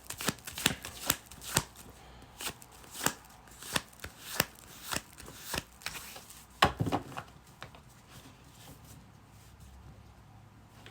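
Tarot cards being shuffled by hand, a run of sharp rhythmic riffling snaps close by that thins into softer, irregular card handling toward the end.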